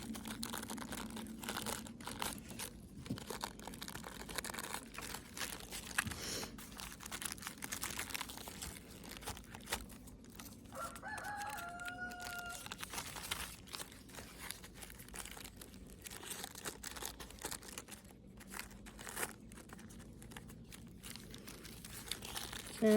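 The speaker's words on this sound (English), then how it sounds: "press the paper in gently so that it's sticking against the shell, sticking against your first layer of Mod Podge" Paper is pressed gently onto a shell over a layer of Mod Podge, producing close, continuous crinkling and crumpling with scattered sharper rustles and small taps.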